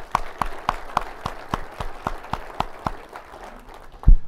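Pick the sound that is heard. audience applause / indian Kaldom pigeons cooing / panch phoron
audience applause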